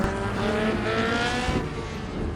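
A car engine drones loud and steady in a tunnel, its roar booming and reverberating off the enclosed walls, with no one speaking.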